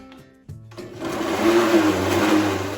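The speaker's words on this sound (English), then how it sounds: "Then blend until smooth." A kitchen blender whirs up to full speed blending frozen banana, berries, grated ginger and milk for a smoothie, a steady loud motor drone after a brief click at the start.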